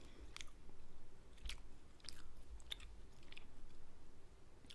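Chewing sweet Korean chicken barbecue from street food, with close, soft wet bites and crunchy chews repeating irregularly through the stretch, no talking.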